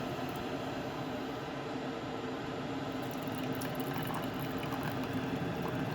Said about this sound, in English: It's boiling it like a kettle.